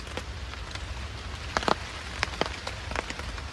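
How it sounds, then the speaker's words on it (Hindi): Heavy rain falls on a camp in a forest, a steady hiss of drops with sharp close patters and drips striking a surface, with no voices. "इतना बारिश है ना कि मेरा कैंप में अंदर तक पानी जा रहा है"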